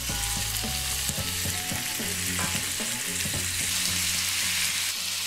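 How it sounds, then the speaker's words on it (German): Chicken meat sizzling and frying in oil in a second pan, a loud steady crackle with stirring clatter throughout, no voices. "Dann kommt das Hühnerfleisch in die zweite Pfanne ins Öl."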